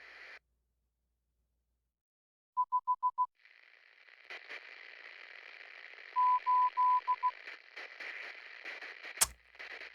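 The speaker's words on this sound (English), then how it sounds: "This is like Morse code." Morse code beeps from a video game sound as two short runs of evenly spaced tones, set against a crackling radio-static hiss with a sharp click near the end.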